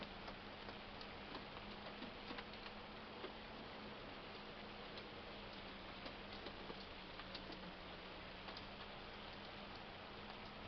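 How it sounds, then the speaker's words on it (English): Hail falls in Farming Simulator 25 as a faint, dense, steady patter of small ticks on surfaces that continues evenly throughout with no voices. "And yes, it's hail."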